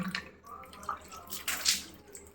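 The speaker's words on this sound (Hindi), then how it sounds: "तो अब हम सिंपल पानी से फेस वॉश करेंगे आज के लिए।" Plain water splashes as a face is washed over a basin, soft irregular splashes and drips in quick bursts, close and quiet, with no talking.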